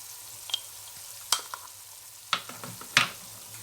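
Salt, red chilli, turmeric and curry powder fry in a pan for chana kofta, a quiet low sizzle broken by a handful of sharp, scattered pops and stirring clicks.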